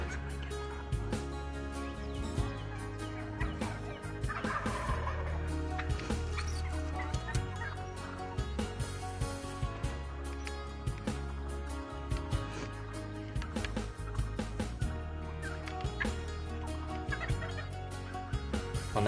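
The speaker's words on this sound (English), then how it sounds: "we had two bigger toms just outside of our blind, maybe 10 yards away on the right side" Wild turkey toms gobbling about ten yards from a hunting blind on a Nebraska turkey hunt, repeated gobbles mixed into a dense, steady wash of outdoor sound with no talk.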